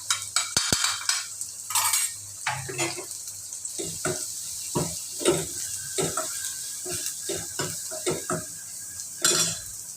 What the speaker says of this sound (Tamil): போட்டு நல்லா ஒரு வதக்கி விடுங்க.